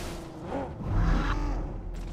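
Game vehicle engine from a buggy in BGMI, a revving motor that swells in the middle and holds steady with some tire noise, fairly close.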